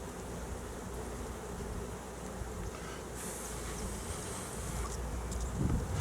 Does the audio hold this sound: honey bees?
yes